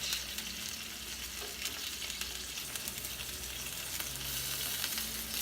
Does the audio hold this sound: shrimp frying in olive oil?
yes